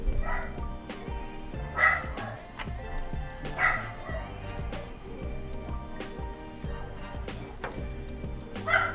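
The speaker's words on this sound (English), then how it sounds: "I'm gonna try to make this dog shut up." A small, angry dog yapping repeatedly in short high bursts with some whimpers between, fairly close, while people talk quietly in the background.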